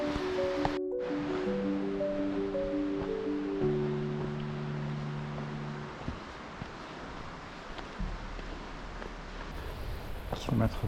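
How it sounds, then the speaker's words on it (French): A mountain torrent in the Cirque de Troumouse in the Pyrenees rushes in a steady, broad wash of water noise, with faint tones drifting over it. "Allez, encore un joli torrent."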